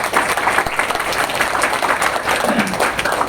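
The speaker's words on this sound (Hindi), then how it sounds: "ये ताली अंदर को, जो आवाज है ना, गूंज अंदर तक जानी चाहिए" Audience clapping together in a hall during a spiritual talk, a dense, steady patter of many hands that carries on loudly and reverberantly, with no speech over it.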